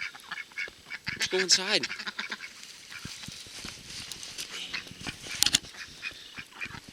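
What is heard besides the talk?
ducks quacking in a blizzard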